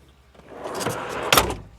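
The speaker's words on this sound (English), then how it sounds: "This is just an XTM drawer" An XTM drawer slides out in a Toyota Hilux N80 touring setup, a soft rolling glide building up and ending in a sharp clunk as it reaches its stop.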